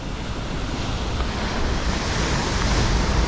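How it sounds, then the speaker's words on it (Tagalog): Big surf roars continuously and close by as waves break on the shore, with heavy wind buffeting the microphone. "Uy, lalaki ng alon."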